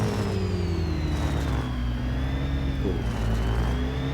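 Engine of a Renault Dezir Concept 150 hp car in the Real Racing 3 racing game on iPad, a steady loud synthetic drone whose pitch sags and then climbs again as the car accelerates.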